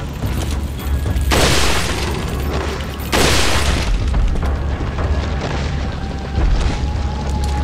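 Loud rifle shots in Resident Evil 4, two heavy booming blasts a couple of seconds apart followed by a dense wash of noisy in-game action and echoing impacts.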